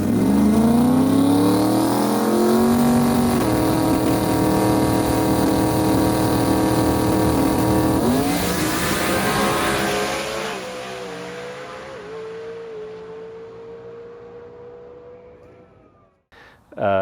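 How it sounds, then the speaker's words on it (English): A drag race car at the FL2K 2023 event roars through a qualifying pass, its loud engine climbing in pitch through distinct gear shifts before fading away into the distance. "we loaded what we knew was going to be the fastest pass the car ever made"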